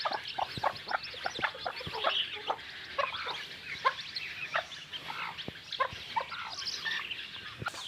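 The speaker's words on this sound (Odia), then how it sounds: "ଚଢ଼େଇମାନେ ଚଢ଼େଇ କୁକୁଡ଼ା ସମସ୍ତେ ମିଶିକି ଖାଉଛନ୍ତି" A flock of chickens and other birds feeding on rice together, with steady overlapping clucks and chirps at close range throughout, busy and continuous.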